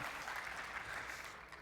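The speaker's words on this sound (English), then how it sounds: "Wow, God, they clapped at the transparency grid." An audience claps during a video editing presentation, a brief steady patter of applause heard at moderate distance.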